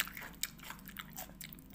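Close bites into fresh, raw, just-harvested bean sprouts give crisp, wet crunches, followed by softer, irregular chewing with no talk.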